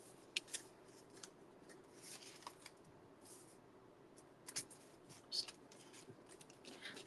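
Scissors cut through paper envelopes at an event table, making quiet, sparse snips and rustles spread across a hushed room.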